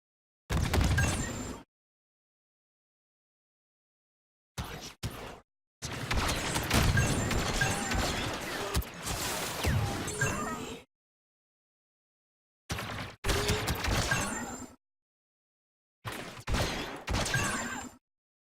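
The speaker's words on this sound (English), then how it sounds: "Grenades there again to block reinforcements." Grenade blasts in the video game Darktide, several loud broadband bursts in separate clusters with gaps of silence between them, one long stretch of rumbling explosions and combat noise in the middle.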